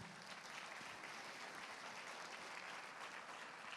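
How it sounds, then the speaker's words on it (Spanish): Applause from a church congregation during a sermon, a steady, even wash of clapping that stays fairly distant and faint throughout. "¿Le das otro aplauso a la palabra de Dios?"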